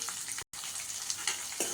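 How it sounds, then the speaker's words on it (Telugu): Chopped onion and green chili sizzling in hot oil, a close, crackling fry with light stirring scrapes and a momentary break partway through. "ఉల్లిపాయ పచ్చిమిర్చి మనకి ఆయిల్లో మంచిగా ఫ్రై అవ్వాలి"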